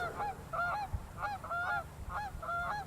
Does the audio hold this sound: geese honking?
yes